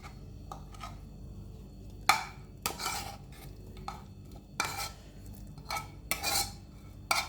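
Onions fry in a pan while being stirred, heard as quiet, irregular scrapes and clinks of a utensil against the pan with short pauses between strokes, and no voices.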